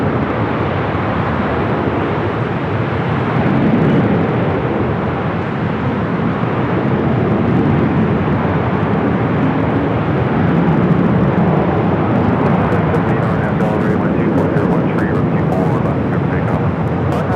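An Airbus A380 arrives at LAX on runway 25 left, producing a steady, loud broadband jet roar that swells slightly midway and holds throughout, with radio voices faintly underneath.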